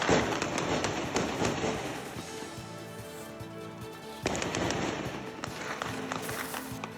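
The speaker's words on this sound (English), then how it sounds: "gunshots can be heard echoing on the streets." Gunshots echo through the streets of Churachandpur during a night of unrest, a burst of sharp cracks with long street reverberation, a pause, then another cluster of reports ringing out at moderate distance.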